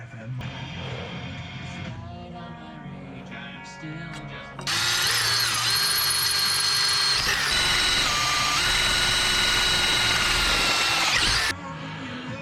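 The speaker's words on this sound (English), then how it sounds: "just grind them down a bit so they fit a little flatter" Power tool grinding down metal shifter parts so they sit flatter, a loud continuous whining grind that starts partway through and runs steadily for about seven seconds after quieter workshop noise, then cuts off.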